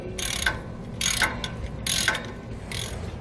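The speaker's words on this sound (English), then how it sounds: "Now we'll take a 9/16 socket and tighten them all down." Ratchet with a 9/16 socket tightening trailer brake bolts, four bursts of rapid clicking strokes at a steady rhythm, close and clear against a quiet background.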